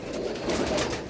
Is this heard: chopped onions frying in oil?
no